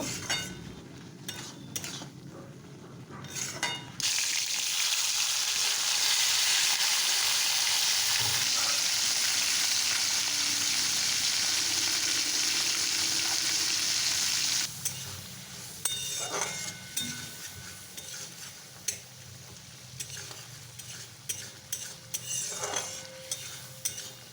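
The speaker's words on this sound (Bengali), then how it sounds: "এটাতে দেখো কচু আলু বেগুন পুঁই শাক দিয়ে একটা ঘন্ট করছি" Vegetable curry of taro, potato, eggplant and Malabar spinach sizzling in a pan, with a steady loud frying hiss through the middle stretch and scattered clinks of a utensil against the pot before and after.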